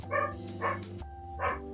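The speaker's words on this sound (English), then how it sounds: "I know you can hear the dog sometimes" A dog barks three times at a moderate distance, the barks unevenly spaced over a low background hum.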